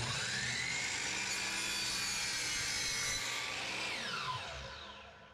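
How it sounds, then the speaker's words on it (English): Miter saw blade cutting through a wood trim piece, a loud continuous whining cut lasting several seconds that drops in pitch and fades as the blade spins down at the end. "Now we'll just cut this piece in half so we can bring the two ends together."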